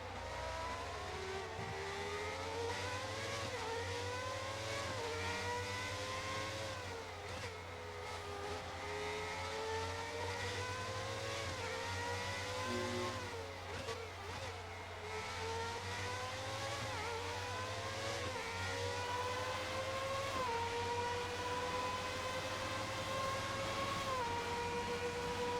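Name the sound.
1990 McLaren race car engine in F1 2019 video game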